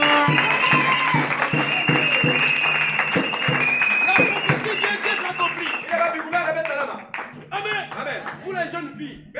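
A church congregation bursts into loud applause and cheering while a voice rings out over the crowd; the clapping thins into scattered claps and chatter toward the end.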